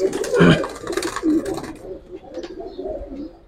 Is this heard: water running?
no